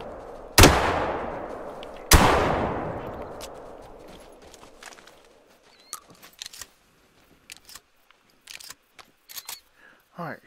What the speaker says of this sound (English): Alright, so I just shot two with the slug.